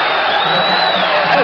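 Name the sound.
boxing crowd cheering on its feet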